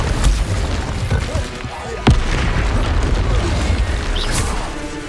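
An Incendio fire spell cast in Hogwarts Legacy, with one sharp burst cutting through a busy backdrop of rumbling combat effects.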